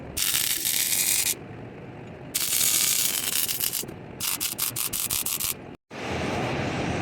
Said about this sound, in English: Now, I just gotta finish welding that galvanized.